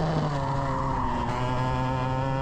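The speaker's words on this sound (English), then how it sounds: "Pretty wicked engine on number 6." Race car engine roaring on the track at Ipswich during a race, a loud sustained high-revving drone with strong harmonics, steady and close throughout with no talk.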